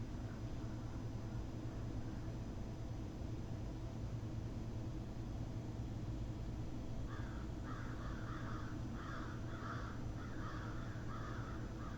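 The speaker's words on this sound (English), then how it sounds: "The birds are active today." Crows caw in a run of repeated harsh calls from some distance outdoors, starting partway through and continuing to the end over a low, steady background rumble.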